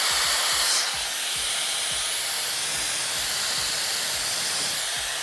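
A WMark hair dryer with three heat and three speed settings switches on and runs with a loud, steady airy rush of blowing air. It holds evenly after starting, with no talk over it.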